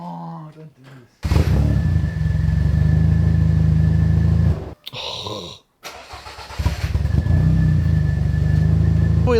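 Car engine cranking and catching after a fuel pump is reconnected during bushing repair work, then running loud and rough with a steady idle, briefly cutting out, then restarting and revving, with voices faint underneath.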